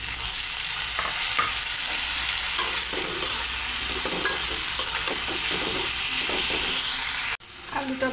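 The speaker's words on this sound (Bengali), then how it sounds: "পেঁয়াজের সঙ্গে আলুটাও ভেজে নেব।" Chopped onion and potato frying in oil after fish for a phesa fish curry, a dense steady sizzle with scraping stir strokes throughout and a brief break near the end, no talk.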